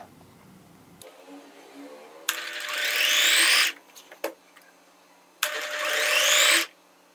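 Single layer of cloth for a flared kameez stitched on a sewing machine in two loud whirring bursts of a second or more each, separated by a short pause with small clicks.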